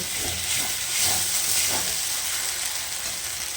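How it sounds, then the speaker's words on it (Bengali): Spice masala for potato curry sizzles and hisses steadily in a pan, loud and close, with occasional stirring scrapes beneath the continuous frying. "মশলাটা ভালো করে কষিয়ে নিচ্ছি"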